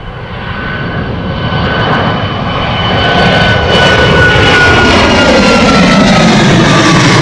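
An airliner inbound to Gatwick Airport roars loud and close, its broad jet-engine rumble swelling and holding steady for several seconds with a faint descending whine.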